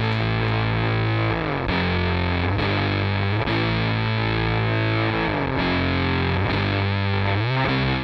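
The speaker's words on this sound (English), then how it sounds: "and that should produce distortion" Heavily distorted guitar played through an overdriven tape recorder, a chugging riff with sustained crunchy chords, loud and continuous throughout.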